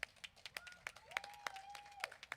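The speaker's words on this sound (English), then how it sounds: "please give a round of applause" A small storytelling audience claps when asked to vote for a favourite story, scattered uneven hand claps at low level, with a sustained whistle-like tone running through the middle.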